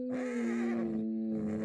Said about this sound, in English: There's also horses.